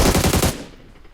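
An M249 machine gun in PUBG Mobile fires a short rapid burst of about half a second, loud and close, then falls quiet.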